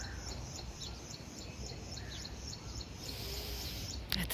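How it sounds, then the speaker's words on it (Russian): Faint, rhythmic chirping from pigeons and parakeets in the grounds of The Chedi Muscat resort in Oman, small repeated calls over a quiet, steady background. "Голуби, попугайчики, слышите, как поют?"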